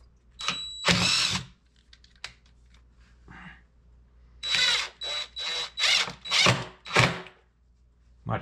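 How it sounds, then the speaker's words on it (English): A power drill buzzes in short, loud bursts: a couple early on, then a rapid series of stop-start pulses close by. "I'm gonna drill a hole."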